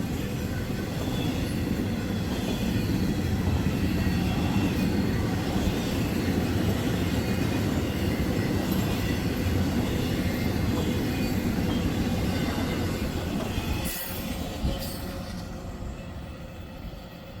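A short CSX UPS freight train of 122 axles rolls past close by, with a loud, continuous rumble and rattle of wheels and cars that fades near the end. No one speaks.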